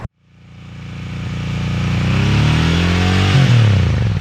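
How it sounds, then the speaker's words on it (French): A Royal Enfield Interceptor 650 motorcycle engine starts, then revs steadily upward with a rising throaty drone and a quick blip near the end, loud and close, with no talking. "mais bien pour la moto sur laquelle je suis assis aujourd'hui"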